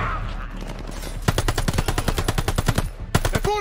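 Rapid bursts of machine gun fire from the Call of Duty: Vanguard D-Day mission, loud and close, rattling in sharp repeated volleys with a brief pause before another burst.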